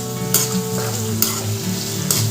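Prawn curry base frying in oil, a steady close sizzle with a few sharp bursts as the pan is stirred, no voices.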